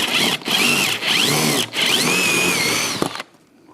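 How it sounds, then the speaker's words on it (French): A power drill with a Forstner bit bores a hole through wood for a beehive feeder frame cover, whining in bursts with rising and falling pitch, brief pauses between pushes, then stopping. "je crois que je vais faire un trou à la mèche Forstner ici"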